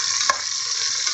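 Sliced onions sautéing with salt in a pan for biryani give a steady, close sizzle, broken by one brief stirring scrape early on.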